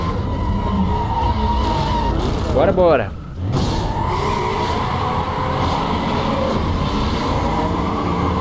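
A Corvette racing in the video game Need for Speed Most Wanted, its steady engine roar broken by a sharp tire skid just before the midpoint, while someone talks briefly over the game sound.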